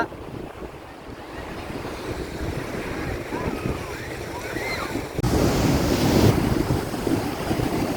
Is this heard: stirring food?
no